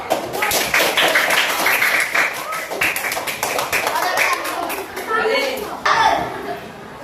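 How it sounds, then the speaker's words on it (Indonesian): A class of schoolchildren claps their hands together in a lively, uneven burst of taps that carries on for several seconds, with children's voices and chatter mixed through the clapping. "Itu tepuk tangan, ayo."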